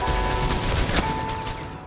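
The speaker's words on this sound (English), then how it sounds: "I shot him in the head." Gunfire from the mobile shooter game Critical Ops, a dense, steady burst of shots running the whole time, loud and close, with a sharper report near the middle.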